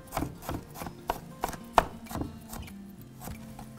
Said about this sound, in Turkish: İnce ince şu çilekleri doğruyorum.